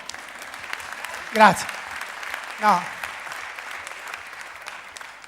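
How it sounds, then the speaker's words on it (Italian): An audience at a live music audition event claps in a steady, even patter throughout, while someone speaks a couple of short words over it. "Vorrei un applauso di biasimo per tutti questi."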